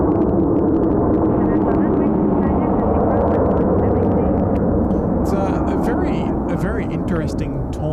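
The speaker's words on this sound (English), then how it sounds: "There goes our Delta 350 off runway 33 left." A Delta Airbus A350 takes off from runway 33 left at Seoul Incheon, a steady loud jet roar filling the whole stretch with people talking over it.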